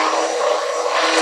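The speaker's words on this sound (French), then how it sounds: "continuez à mixer, c'est un tout que du bon" A blender purees a potimarron (red kuri squash) velouté, giving a loud, steady, close-up whirring roar that holds unbroken throughout the short moment.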